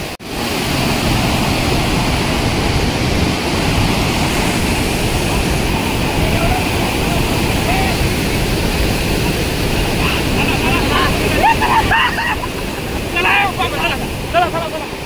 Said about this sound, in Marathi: तर आता तुम्हाला इकडे जो वॉटरफॉल तयार झाला आहे तो दाखवतो मित्रांनो.